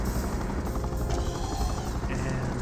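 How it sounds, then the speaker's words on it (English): Helicopter rotors in the real-time strategy game Universe at War, a dense continuous thumping drone filling the short stretch, with no clear talk over it. "Helicopters will provide general support."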